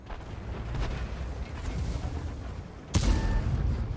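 A tank cannon in World of Tanks fires with a sudden loud boom about three seconds in, following a stretch of low rumbling engine and battle noise.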